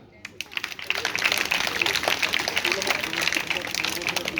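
Applause from an audience at a government school event, a dense burst of many hands clapping that rises after a brief quiet start and stays steady and fairly close for several seconds.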